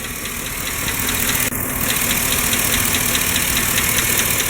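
Idling 5.3 Chevy Silverado V8 with lifter tick, a steady close engine drone carrying a fast regular metallic ticking, one brief dropout partway through.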